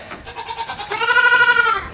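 Goats in a small herd bleat: a softer wavering call followed by a loud, nasal, sustained bleat, close and clear with no talking.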